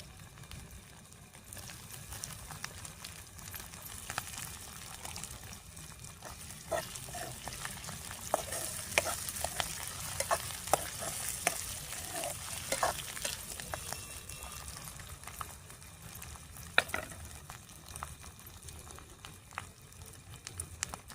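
Chopped tomatoes go into sizzling masala with cumin in a pan for masala paneer, a steady close frying hiss broken by scattered clinks and scrapes of stirring, with no talking.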